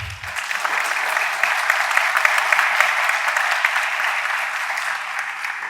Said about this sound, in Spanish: Un aplauso, por favor, a la universidad.